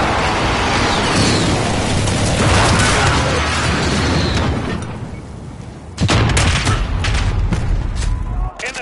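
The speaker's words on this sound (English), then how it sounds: "Allies receive an airstrike incoming." Airstrike in a multiplayer shooter game: a sustained roar of dense explosions and blasts that dips briefly, then returns with crackling bursts and booms.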